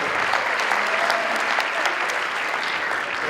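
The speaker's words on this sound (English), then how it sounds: "One more round of applause for this young man" Steady, dense applause from an audience at a Martin Luther King Jr. celebration program, filling the whole moment loudly and evenly with no pauses.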